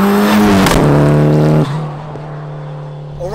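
A sequential-gearbox Mitsubishi Evo 7 with an HKS stroker engine on boost accelerates hard, a loud rising engine roar with a sharp gear change, then a lower steady drone as it pulls away, close and alone.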